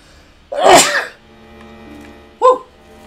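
A person lets out one loud, close sneeze, then gives a shorter, softer follow-up burst about two seconds later, with quiet game background between them.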